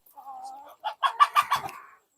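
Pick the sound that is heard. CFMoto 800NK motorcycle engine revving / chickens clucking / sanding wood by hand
chickens clucking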